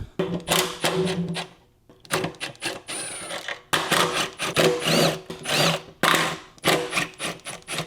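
Power tool removing Torx 25 bracket bolts during DISA valve work on a 2007-2010 BMW X5 E70, several short loud whirring bursts with brief pauses between, close by.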